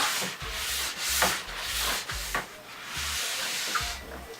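A brush scrubs a freshly waxed ski base clamped in a vise, working from tip to tail in a steady rhythm of close, hissing strokes repeated about eight times, with no talking.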